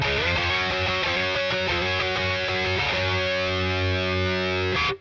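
Distorted electric guitar played through a Boss Katana amp dialed to a glam rock tone, strummed chords and riffs ringing out loud, ending on a sustained held chord that cuts off abruptly.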